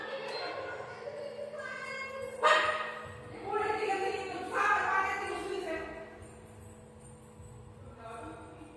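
Indoors at home, a dog barks in several sharp bursts spaced a few seconds apart, loud and close, with short gaps of quiet in between.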